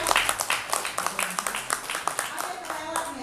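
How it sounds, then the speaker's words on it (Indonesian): An audience at a school gathering for teachers gives a brief round of applause, a dense patter of many hands clapping at close range for a few seconds. "tepuk tangan dulu ya."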